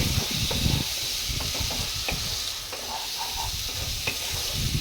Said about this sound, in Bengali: এবার আলুটা দিয়ে আমি ভালো করে পুরোটা আরও ভালো করে কিছুক্ষণ কষিয়ে নেবো